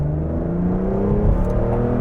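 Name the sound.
Aston Martin engine revving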